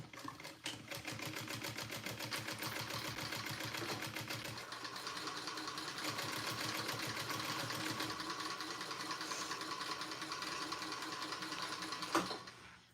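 A sewing machine runs long basting stitches, its needle chattering in a fast, even mechanical rhythm with a steady motor hum, close by and continuous with no talking.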